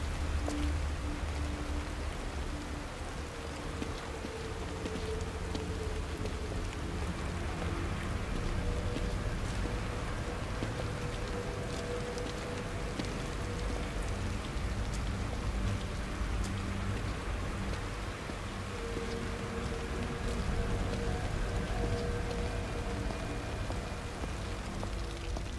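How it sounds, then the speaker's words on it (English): Steady rain falls throughout in the video game The Evil Within, a continuous soft patter with faint low rumble, even and unbroken for the whole stretch. "Rain is gonna wash away any evidence."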